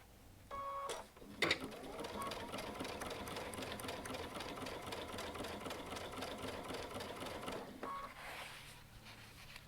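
A Baby Lock Altair sewing machine stitches through eight layers of denim over a quarter inch thick, its needle running in a steady, fast mechanical chatter for most of the stretch, starting and stopping with a few brief clunks near the beginning and end.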